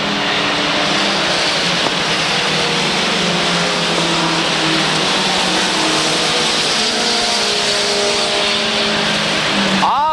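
Mini stock race cars racing in a pack at Waterford Speedbowl, a loud continuous roar of several engines running together for the whole stretch, with no pause.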